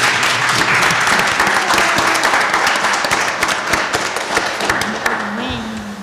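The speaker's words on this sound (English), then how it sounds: "Let's give a round of applause for our panel," Audience applause for a panel of artists closing a public conversation event, steady dense clapping throughout at a loud, even level, tapering slightly toward the end.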